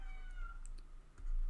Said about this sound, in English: I don't know if you guys can hear the cats in the video,